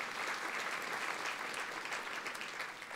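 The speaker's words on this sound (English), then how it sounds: "a round of applause." An audience at a formal annual awards dinner applauds, a soft, steady wash of clapping heard from some distance, with no talking over it.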